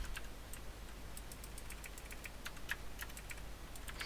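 Typing on a computer keyboard while coding: quick, light, irregular key clicks in short bursts, close but quiet, with no talking.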